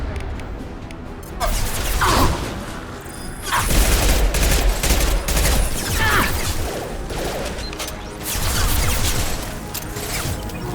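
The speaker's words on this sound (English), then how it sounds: "Firing concussive shot!" Concussive shot ability firing in the video game Mass Effect, a loud burst amid dense, sustained combat noise with repeated crashing impacts and gunfire-like clatter throughout.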